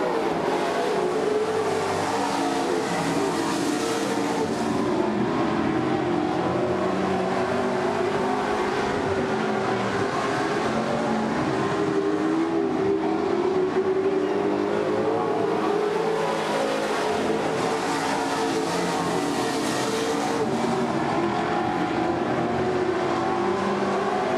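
Race cars battle for the lead on a racing circuit, engines droning loudly and continuously, pitch rising and falling as the pack sweeps past and on into the turns.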